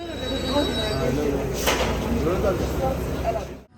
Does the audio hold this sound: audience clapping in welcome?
no